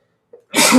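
A single sharp sneeze bursts out close and loud after a brief faint intake of breath, standing alone with no talk around it.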